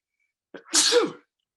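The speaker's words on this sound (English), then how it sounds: "going to sneeze again" A single loud, close sneeze bursts out suddenly during a college basketball preview podcast, with a short sharp intake followed by a broad explosive blast, alone without talk.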